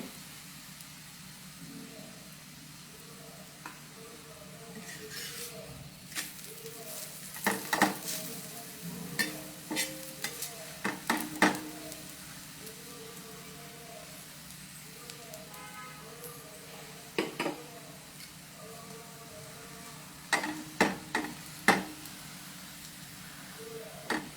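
Food sizzling and frying in a pan while it is turned and lightly pressed down to cook crisp, with steady sizzle and scattered clinks and scrapes of a utensil against the pan; no talking.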